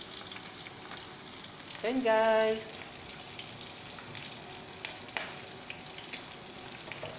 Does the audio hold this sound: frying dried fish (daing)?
yes